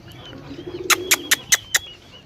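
Pigeons near a rooftop loft give soft cooing calls, followed by five sharp, evenly spaced bursts that sound like wing claps or flapping, close and clear over quiet background noise.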